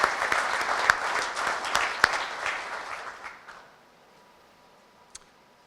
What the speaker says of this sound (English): I'd like to give you all a big round of applause